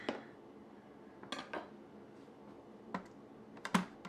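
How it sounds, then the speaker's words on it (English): Knife trimming rind off food on a cutting board during weekend meal prep, a few sharp close clicks and taps against the board, spaced irregularly and quiet, with no talk. "Let's see if we can cut off a little bit more rind."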